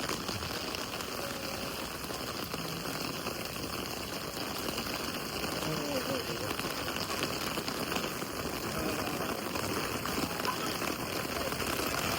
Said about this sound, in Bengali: এখানে ও অনেক সুন্দর বৃষ্টি হচ্ছে